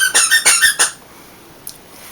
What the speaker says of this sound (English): Please excuse the squeaky toy. My dog is going crazy on it.